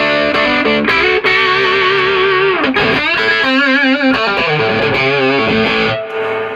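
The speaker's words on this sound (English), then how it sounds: "That's quite a lot of preamp gain there rather than power amp distortion" An EVH Wolfgang guitar through a Marshall JCM800 with heavy preamp gain rings out in loud, saturated, distorted chords and bending lead notes, sustained and crunchy throughout with no talking.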